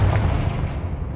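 The Confringo fire spell from Hogwarts Legacy lands with a deep, booming blast that rolls out like an explosion and fades over about a second, heard alone without talk.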